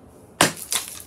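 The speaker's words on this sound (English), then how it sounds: "I just smashed that piece right now" Frozen ice chunk encasing a Lego minifigure smashed with a sharp tool: two sharp cracking crunches, the first loud and abrupt, a second slightly softer one following a moment later, close and alone.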